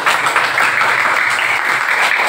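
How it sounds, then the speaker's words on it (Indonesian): Steady applause from a group, a continuous wash of clapping filling the whole moment at fairly close range. "Tepuk tangan untuk Mela."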